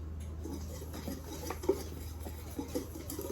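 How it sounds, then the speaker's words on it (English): Vegan double chocolate zucchini muffin batter is stirred in a bowl, giving faint, close scraping and soft clinks of the utensil against the bowl with a low hum behind. "let's stir this guy up"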